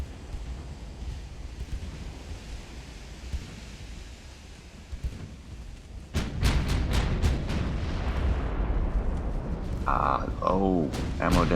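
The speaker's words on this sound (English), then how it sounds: "Oh, ammo detonation." A warship's ammunition magazine detonates in a naval battle in Ultimate Admiral: Dreadnoughts, a sudden loud blast after steady wind and sea rumble, followed by a burst of sharp cracks and a roaring, rumbling aftermath.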